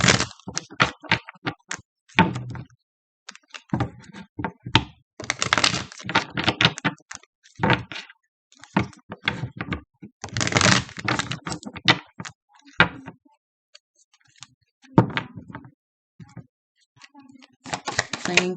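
Tarot cards being shuffled, with bursts of crisp riffling and flicking in irregular clusters separated by short pauses, close and fairly loud, with no talk.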